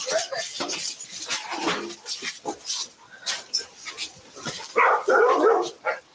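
Several dogs barking and whimpering inside a house amid raised voices and kitchen clatter, with a louder burst of barking near the end.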